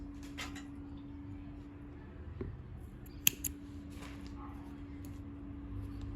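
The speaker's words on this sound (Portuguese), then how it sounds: "Vou cortar aqui uns 30, 40 centímetros." Scissors snip through crochet yarn for a child's bag, a short close cut with a couple of small clicks over a steady low room hum.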